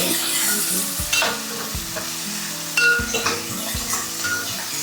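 Onions frying with turmeric powder for a sorrel-leaf shrimp curry, a steady loud sizzle broken by repeated scraping stirs and a few clinks of a spoon against the pan.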